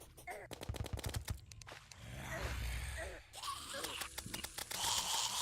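Handgun fire in the video game Terraria, a quick run of sharp repeated shots with short gaps, then steadier game noise and more bursts of firing near the end.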